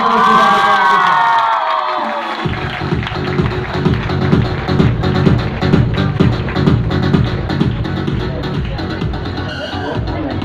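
A large crowd at a beautician seminar cheers and claps loudly, with whoops and shouts rising over sustained applause that carries on throughout.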